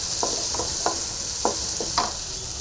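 Onions and green chilies fry in hot oil in a pan, a steady sizzle broken by about half a dozen scraping spatula strokes spaced through the stir, with no voices.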